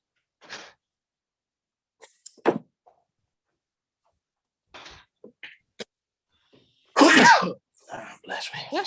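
A single sharp sneeze bursts out in a quiet meeting room near the end, preceded by faint scattered clicks and small movements, with brief voices around it.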